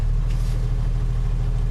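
A Valiant car's engine idles in low gear after an unwanted downshift, a steady deep rumble with a low pulsing throb, close and continuous.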